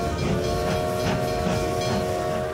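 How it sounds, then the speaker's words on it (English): A departing train in the Manor Matters mobile game rumbles steadily with a low rhythmic chugging and sustained tonal hum, continuous and fairly loud throughout, with no talking. "The train is leaving."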